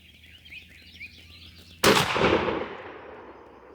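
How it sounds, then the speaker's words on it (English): A Remington 870 shotgun with a 24-inch barrel and Hevi-Shot .662 choke fires one Herter's 12-gauge 2-3/4-inch 1-1/2 oz #9 TSS shell outdoors: a single sharp, loud blast that decays quickly after quiet birdsong. "let's take our shot and see what kind of a pattern we get"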